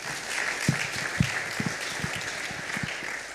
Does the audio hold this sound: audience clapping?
yes